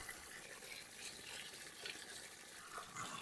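Water flows in a pomegranate garden, a faint, steady rushing hiss like running water from a tap, continuous and even with no voices over it.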